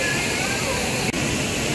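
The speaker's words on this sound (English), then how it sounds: "The flowing water is looking so magical and enchanting." The Düden waterfall in Antalya, Turkey, gives off a continuous roar of rushing water, broad and steady throughout. A voice talks over it.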